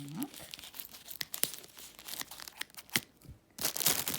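A package torn open during an unboxing of an online order, with sharp bursts of ripping and crinkling packaging at close range and no talking.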